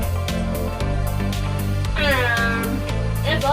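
A cat meows over a loud, steady bed of music, with two drawn-out, rising calls standing clear of the backing track.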